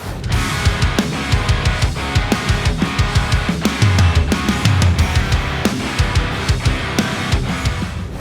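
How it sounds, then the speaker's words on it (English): Loud, driving electric guitar through a real tube amp with a thick tone, chugging chords and sharp percussive hits running continuously for several seconds. "how to record a real tube amp that sounds like this"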